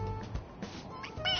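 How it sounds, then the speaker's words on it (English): A plush toy cat gives electronic meows when its head is pressed, several short whining mews in a row, close and fairly loud with no talk over them. "It meows when you press on its head."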